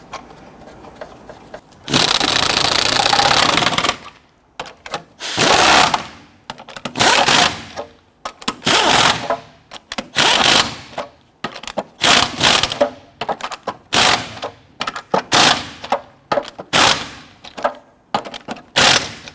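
Impact gun or power tool snugging lug nuts on a 2006-2010 Honda Ridgeline wheel: one long loud burst followed by a string of short, punchy bursts with brief silences between them, close and alone.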